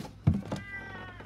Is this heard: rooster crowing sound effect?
no